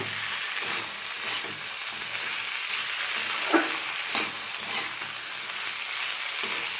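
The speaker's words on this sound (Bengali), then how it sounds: "আমি এটা নাড়বো এইভাবে" Drumstick and potato vegetarian curry frying in a pan, steady sizzling hiss broken by a few scraping stirs of a spatula, close and continuous with no voices.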